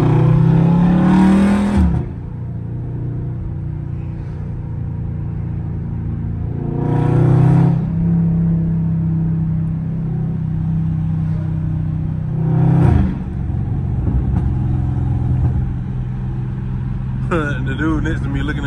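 A loud Dodge Charger Scat Pack engine drops through repeated downshifts on a city drive, rising in sharp rev blips between long droning stretches, heard from inside the car.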